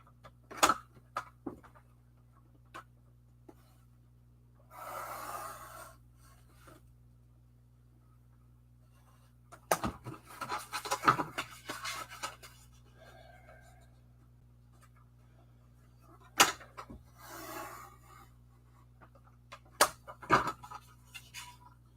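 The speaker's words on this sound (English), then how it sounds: "I'm going to trim and make a 1/2 inch frame." A drop-down paper trimmer cuts cardstock into a half-inch frame, producing a few short, quiet slicing and scraping strokes spread between soft rustling in an otherwise quiet room.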